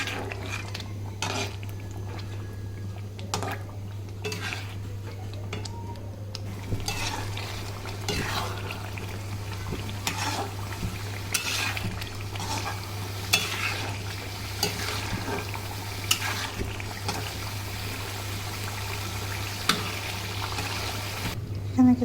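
Chicken liver and cubed potatoes stir-fried in a pan, with repeated clinks and scrapes of a utensil against the pot over a low sizzle and a steady hum, continuing evenly at close range.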